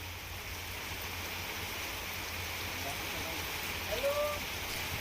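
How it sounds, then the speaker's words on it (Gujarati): Heavy monsoon rain pours down over farmland, a steady, even hiss of falling water that holds at a moderate level throughout with no break. "ધોધમાર વરસાદની શરૂઆત થઈ છે"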